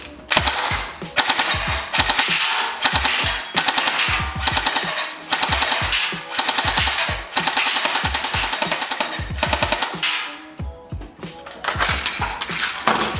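A Golden Eagle MCR LMG airsoft gun firing on full auto with high-pressure magazines, giving repeated bursts of rapid mechanical clatter with brief pauses between them, close and loud.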